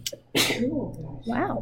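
A single sharp sneeze bursts out in a classroom during a geometry lesson, followed by a person's voice speaking briefly afterward.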